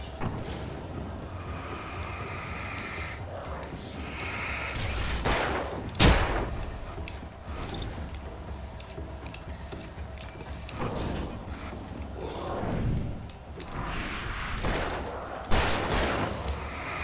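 Flashbang grenades go off in the Alan Wake video game, several sharp booming bursts scattered across a dark, rumbling ambient scene, with one especially loud blast standing out.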